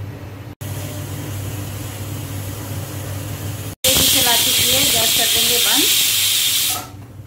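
A loud, steady hiss of steam from a pressure cooker on a gas stove, rising sharply partway through with sputtering into a whistle, then cutting off abruptly near the end.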